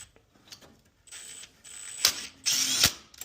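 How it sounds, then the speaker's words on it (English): A power driver sends a screw into an electrical box: short whirring bursts close by, the last two louder and longer, with a faint ratcheting click between them. "I'm going to shove a screw in to hold it"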